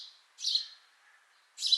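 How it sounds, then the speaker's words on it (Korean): Two short, clear bird chirps ring out alone with a gap between them, bright and fairly close against an otherwise quiet background. "새소리,"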